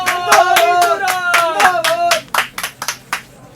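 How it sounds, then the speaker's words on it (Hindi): A few pairs of hands clap in a steady, brisk rhythm, loud and close, the claps thinning into scattered, uneven ones toward the end. "तालियां बजाओ"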